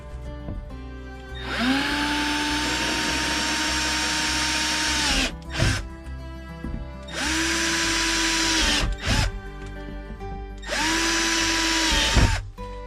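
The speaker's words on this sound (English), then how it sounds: "and then we'll drill the holes" A power drill whirs loudly in three long bursts while drilling holes for backseat storage on a Can-Am Defender Max, each spinning up, holding a steady whine for a few seconds, then winding down, with short pauses between.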